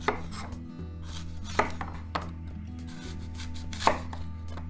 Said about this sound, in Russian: Яблоки нарезаю слайсами.